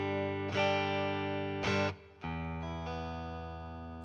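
An electric guitar plays sustained chords through a Marshall amp's vibrato channel, notes ringing out with a reverb tail, two strums then a held chord.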